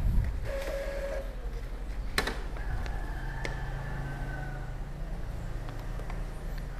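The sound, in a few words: inkjet printer printing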